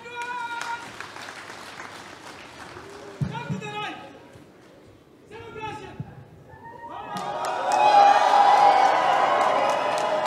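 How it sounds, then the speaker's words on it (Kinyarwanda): Applause and cheering from a crowd at a Catholic graduation ceremony for engineering diploma holders, starting off scattered among voices and then swelling into loud, sustained clapping and cheers near the end. "Amashyi menshi cyane"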